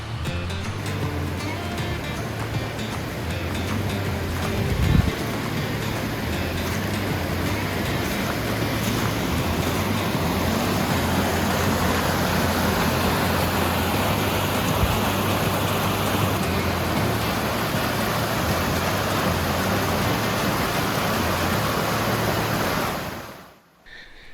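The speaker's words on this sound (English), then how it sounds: "How would you like to be able to sit out here in the evening and just listen to the river?" A mountain river at a Black Mountain, North Carolina campground rushes steadily, a loud continuous broadband wash with one brief thump near the start, no voices.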